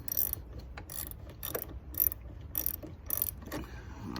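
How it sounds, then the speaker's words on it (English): Ratchet with a 10mm socket loosening the battery terminals on a Nissan Titan, rapid rhythmic clicking of the pawl in repeated short strokes, close and fairly crisp, no talk. "So to remove this, 10mm socket on your negative and your positive."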